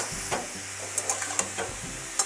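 Grated radish being stirred and fried in a pan, a soft sizzle and hiss running throughout with scraping stir strokes and a few sharp clinks of the spatula against the pan.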